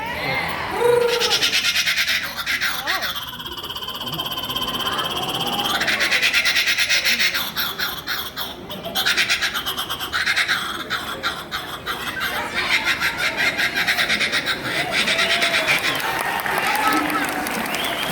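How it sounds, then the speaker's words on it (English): A bird's calls ring out over dense, steady jungle ambience thick with insects and frogs, continuing throughout. "they use this little bird's voice in the background of every jungle movie"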